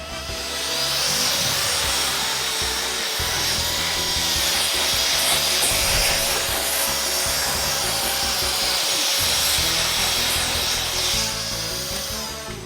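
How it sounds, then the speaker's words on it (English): A brush and an air blower clean dust off a Blitzway Carbotix Mazinkaiser collectible figure, giving a steady, close scrubbing and hissing rush with a faint whine that runs continuously and fairly loud throughout. "we're gonna be using the brush, but we're also gonna be using the blower at the same time"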